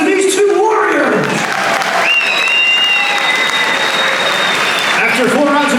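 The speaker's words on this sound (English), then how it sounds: "can we please have a round of applause for these two warriors?" Crowd applauding boxers after a bout at the Hordern Pavilion, with loud, sustained clapping close by and an announcer's voice over it.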